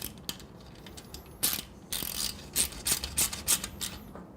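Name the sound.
Allen key tightening heat shield clamp on motorcycle exhaust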